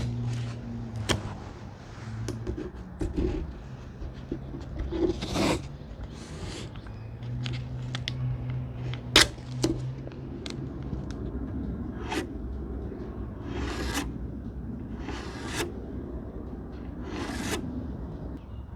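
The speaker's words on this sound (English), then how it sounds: "we can start to layer the blue tape on top of it" Strips of blue masking tape are pulled and pressed onto a Honda Rebel 1100 batwing touring screen, giving repeated short ripping and crinkling bursts over a quiet room hum, with no talking.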